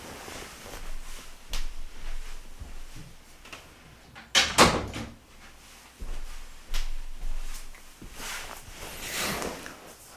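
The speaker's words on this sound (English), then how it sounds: "Now let me go ahead and close the door." A door pushed shut indoors gives one sharp, close thud midway, with quieter bumps and handling noises before and after.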